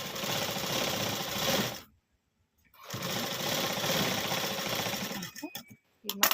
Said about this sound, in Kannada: ಈ ರೀತಿ ಸ್ಟಿಚ್ ಮಾಡ್ಕೋಬೇಕು.